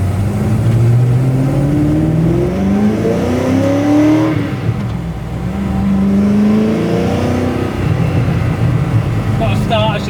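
Steady car drone at motorway speed on the Autobahn, with rising and falling engine tones as it accelerates through gears, loud and close from inside the cabin, people talking over it.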